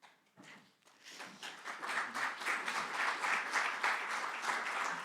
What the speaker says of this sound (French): C'est petit comme applaudissement, ils sont 3.